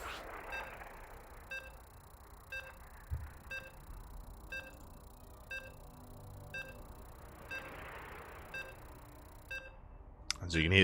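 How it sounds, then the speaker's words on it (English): Evenly spaced electronic beeps sound roughly once a second during a StarCraft tournament broadcast, faint and steady over a low background hum, ending with a brief burst of louder noise. "So you can hear the beeps"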